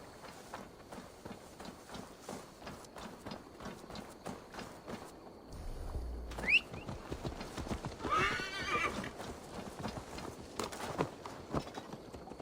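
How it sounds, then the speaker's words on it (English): Rhythmic hoofbeats clip-clop steadily throughout in Assassin's Creed Valhalla, with a horse whinnying loudly midway amid rustling movement. "Now to deliver Magni his horse"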